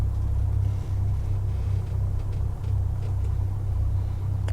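In a home flight sim, a piston aircraft engine idles at a thousand RPM, a low, steady rumble that holds even throughout, with a couple of slight dips and no talking.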